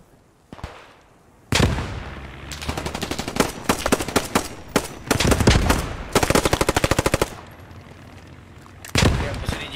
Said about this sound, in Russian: Прямо посреди точки пулемет стоит.